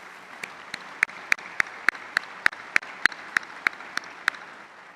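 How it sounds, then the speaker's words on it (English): Slow, evenly spaced claps, about a dozen sharp hand strikes at a steady rhythm, ringing out over a quiet room at a Veterans Day museum gathering honoring its members. "So please join me once again in giving a round of applause to all of our Charter and Patriot Circle members."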